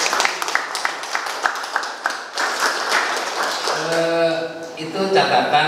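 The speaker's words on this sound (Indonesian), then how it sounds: "Tepuk tangan untuk kita." Scattered hand clapping from union members at an SPSI workplace union officers' installation ceremony at PT Kayu Permata, a few seconds of crisp claps that give way to someone speaking over a microphone.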